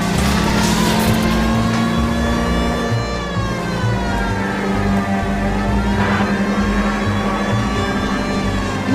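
A car in L.A. Noire drives with a steady, loud engine drone that shifts pitch slightly as it runs, continuous and close throughout with no talking.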